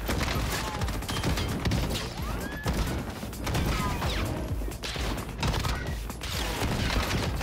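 StG assault rifle firing in the Warzone video game, rapid bursts of gunfire with mechanical clatter, dense and loud, continuing across the whole stretch.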